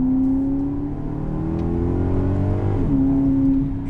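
A Maserati GranCabrio 4.7 GT engine revs steadily, holding a strong, loud note before dipping briefly and climbing again.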